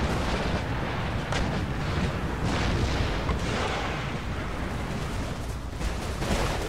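Continuous, heavy cannon artillery fire rumbles in an Empire Total War battle during a Mughal campaign with the Darthmod mod, a dense, unbroken barrage of overlapping booms with no voices.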